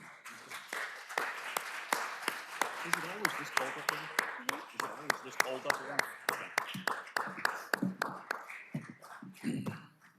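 Scattered applause from the audience at a city council candidate forum, individual claps crackling irregularly over a voice that keeps talking throughout.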